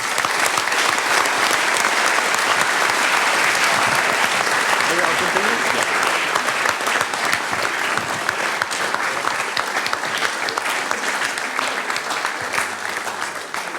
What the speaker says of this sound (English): And I think maybe an applause.